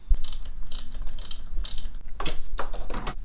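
A ratchet wrench clicks in rapid bursts while loosening the battery terminal on a Mazda2, a few close, sharp runs of metallic ticking separated by brief pauses.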